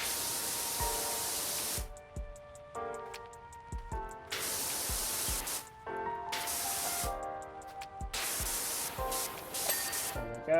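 A pressure washer sprays a fire rescue helicopter in Powerwash Simulator, loud hissing bursts of a few seconds each that start and stop repeatedly, with short quieter gaps between blasts.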